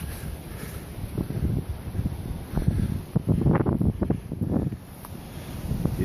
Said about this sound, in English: There's definitely some wind here.